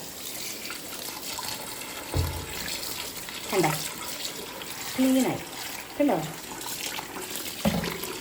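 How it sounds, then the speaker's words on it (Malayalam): Tap water runs steadily while anchovies are rinsed clean by hand, with a few splashy bursts as the fish are handled. A person talks briefly over the flow. "വെള്ളം തുറന്നു വിടുക."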